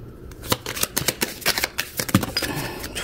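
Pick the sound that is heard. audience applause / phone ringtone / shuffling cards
shuffling cards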